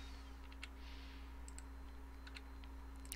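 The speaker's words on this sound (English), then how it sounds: "I enter in the grades by clicking in the cell and typing in the grade." Mouse clicks and keyboard typing while entering grades into a spreadsheet-style online gradebook: scattered light, faint clicks and short keystroke bursts over a steady low electrical hum, with no talking.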